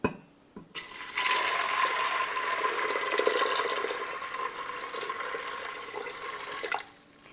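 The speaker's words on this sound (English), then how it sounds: "and cover with water." Water pours steadily into a pot of black beans with bay leaves, pepper and garlic powder for feijoada, a continuous close splashing fill lasting several seconds before stopping.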